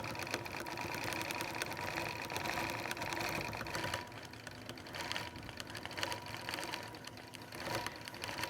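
A sewing machine stitches closely along a quilt appliqué, running with a steady, rapid mechanical hum and needle chatter throughout.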